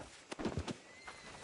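A horse in the Red Dead Redemption 2 video game gives a brief, soft whinny with a few light hoof sounds, heard alone without speech.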